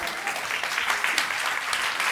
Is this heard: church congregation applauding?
yes